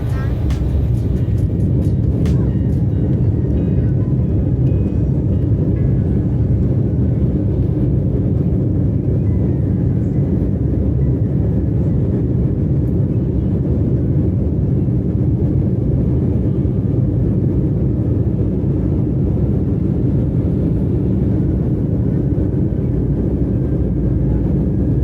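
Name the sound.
passenger airplane engines during takeoff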